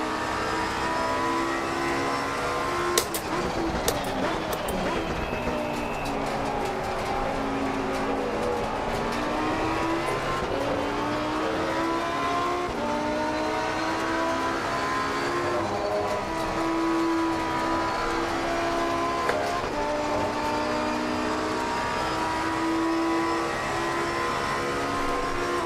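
McLaren GT race car in Assetto Corsa Competizione, its engine droning steadily with sweeping pitch changes through gear shifts, loud and continuous for the whole stretch with no talk.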